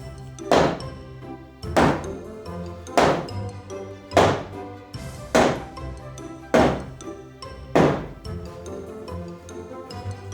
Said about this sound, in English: I used a small sledgehammer on the bottom plate to persuade the wall into a full vertical position